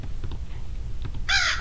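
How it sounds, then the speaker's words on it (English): A crow in the horror video game Granny gives a loud, harsh caw near the end, sounding close and standing alone over a faint, low ambient hum. "There's a bird."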